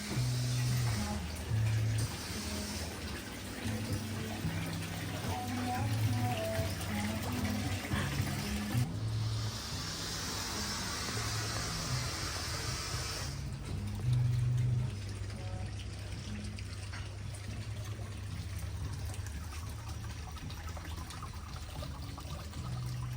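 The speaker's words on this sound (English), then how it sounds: "I'm gonna wash my hands" Hands are washed under a running tap at a coffee shop near Chiang Rai, a steady splash and pour of water lasting throughout, with a brighter, louder stretch of flow partway through.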